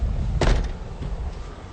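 A single heavy knock lands on a door, one dull thump that stands out clearly against a low, steady background hum.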